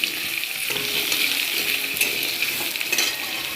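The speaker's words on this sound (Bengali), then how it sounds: "এবার এগুলো আলুগুলো ভাজবো" Potato pieces crackle and sizzle in hot oil seasoned with nigella seeds, heard close and loud. Spoon scrapes and a light metallic clink break into the frying over a few seconds, with no voices.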